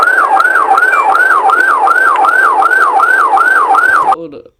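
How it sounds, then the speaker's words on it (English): A loud, close police car siren during a high-speed chase, wailing in fast, regular rising and falling cycles before cutting off abruptly near the end. "prompting the officer to finally activate his lights and sirens in an attempt to pull him over"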